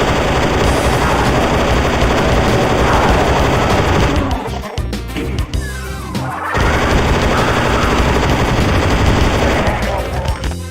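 Rapid automatic assault rifle fire in the Doom megawad Struggle: Antaresian Legacy, loud sustained bursts with a short break in the middle full of impacts and crashes before firing resumes.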